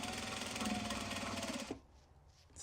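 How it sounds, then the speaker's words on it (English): A sewing machine double-stitches over earlier, overly long stitches on a belt bag made from an upcycled obi. It gives a steady, rapid mechanical hum for about a second and a half, then stops abruptly into near silence. "we're going to double stitch over top of that here"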